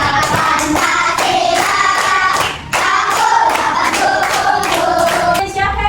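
Children sing the Indonesian national song Garuda Pancasila in a classroom, loud and steady for the whole stretch, with rhythmic hand claps keeping time beneath the voices.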